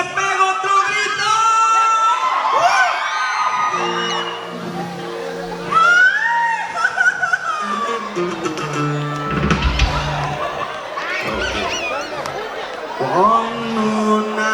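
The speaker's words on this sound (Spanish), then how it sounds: "y la raza se pega otro grito." A wedding crowd in San Agustín Oapan shouts and cheers loudly together, with whoops and yells mixed with voices and chatter throughout.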